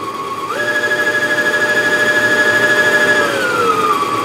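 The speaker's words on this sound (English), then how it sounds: "I prefer to wind the bobbin in a medium to slow speed just to make sure everything's working right." A Angela Wolf LB5000S sewing machine winds a bobbin at medium to slow speed, its motor rising into a steady whining hum that holds, then winds down, loud and close with no talk.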